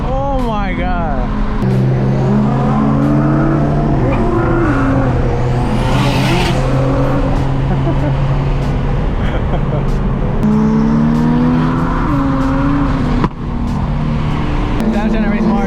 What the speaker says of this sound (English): Bro, this Porsche sounds insane.